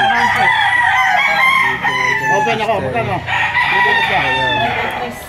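Several roosters crow repeatedly and loudly at a gamefowl farm in Lipa, Batangas, with clucking between the calls and people talking nearby.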